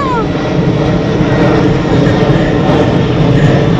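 A loud airplane roars overhead near a large hospital in Taiwan, a sustained, steady engine rumble that dominates throughout, with people talking under it.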